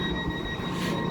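A Swedish regional train running between Eskilstuna and Örebro: a steady, close rumble with faint high whining tones and no pauses.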